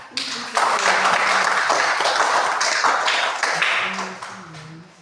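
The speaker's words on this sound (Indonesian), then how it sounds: "Tepuk tangan dulu untuk kita." Classroom audience applauds student presenters in a school project session, a sustained burst of clapping that builds quickly, holds for several seconds, then fades as a voice begins.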